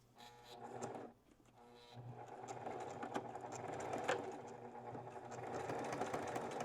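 A sewing machine stitches fabric around the edge of a memory pillow made from a shirt, running in a steady close whir with a brief pause near the first second before it resumes.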